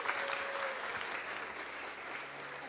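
A conference crowd welcomes Ethereum Foundation researcher Vitalik Buterin with even, moderately distant applause, a continuous wash of many hands clapping, with a faint tonal hum and a brief voice-like tone early on.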